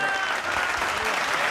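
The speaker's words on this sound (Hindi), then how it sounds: "अब तालियां चाहिए" Live television studio audience breaking into brief, lively applause, a dense burst of clapping heard close with no talk over it.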